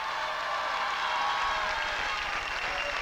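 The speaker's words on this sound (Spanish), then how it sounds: "Les pido un aplauso para Ale." A game show studio audience applauds a contestant on 100 Mexicanos Dijeron, dense steady clapping filling the room at an even level from start to finish.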